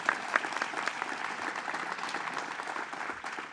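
Audience applause at a Bronx studio expansion announcement for a state official, a steady, lively round of many hands clapping with a few sharper claps near the start, sustained and fairly close, with no talk.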